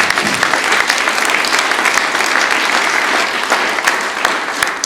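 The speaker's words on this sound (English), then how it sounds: "Can we have a round of applause for our judges who made today possible?" An audience at a university thesis competition claps loudly and steadily for the judges, a dense continuous applause with no speech over it.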